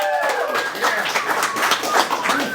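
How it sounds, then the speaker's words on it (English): Audience applause at a poetry anthology reading, a continuous patter of clapping with voices mixed through it, fairly close and loud. "Keep the applause going for Matt Trease"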